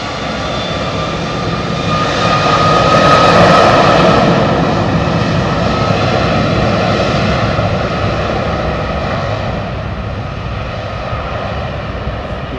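Jet airliner engines roar steadily at London Heathrow Airport, a loud, dense whine and rumble that builds slightly early on and then holds constant, with no voices.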